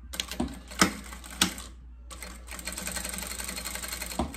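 A sewing machine stitches the lining of a small Easter bag, a couple of sharp clicks and a short pause giving way to a steady run of fast, even stitching.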